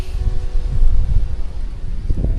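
Gusting outdoor wind buffets the microphone in a steady low roar that swells and eases, loud and close, with no voices.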